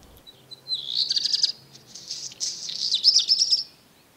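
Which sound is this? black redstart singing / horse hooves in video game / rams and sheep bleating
black redstart singing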